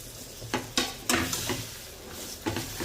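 Boiled potatoes go into a hot pan with a short sizzle, then a spoon scrapes and stirs them in a few distinct, close strokes against the metal.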